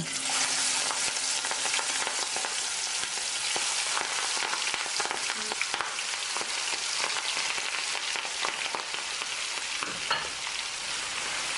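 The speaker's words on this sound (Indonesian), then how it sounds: "setelah selesai dimarinasi, kita langsung aja goreng." Marinated shrimp fry in a wok with a continuous bright sizzle and crackle, punctuated by scraping stirs and spatters, close and steady with no talking.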